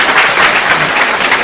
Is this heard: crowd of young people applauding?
yes